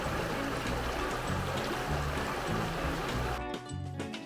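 A river in Callander, Scotland flows steadily with a dense, continuous rushing wash that stays loud and even throughout, then briefly thins near the end.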